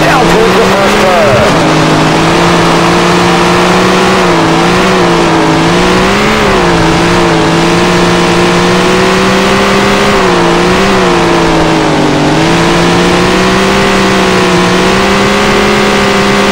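Race car engines roar together in the Tony Stewart All-American Racing game as the field rolls to the start line, a loud, steady, layered drone that rises and dips in pitch throughout.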